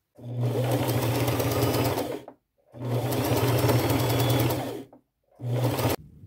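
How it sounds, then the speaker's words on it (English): A sewing machine runs a straight stitch along the sides of an upcycled lace and fabric headband, in three steady motor bursts, the longest two about two seconds each, separated by short pauses and ending abruptly. "with a straight stitch, sew all the way down on both sides"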